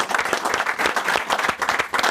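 A dense crowd bursts into continuous applause for outreach workers in Norfolk, a steady loud wash of many hands clapping with no voices over it.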